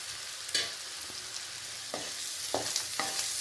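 Four eggs fry in a pan with a low continuous sizzle and several light scraping stirs at intervals, fairly quiet and close, with no voices.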